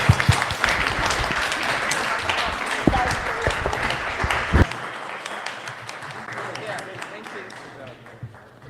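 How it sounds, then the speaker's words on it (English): An audience at a panel event on world peace and democracy breaks into a round of applause, loud dense clapping with a few sharp claps that thins and fades out by the second half. "Let's give a round of applause for the participants."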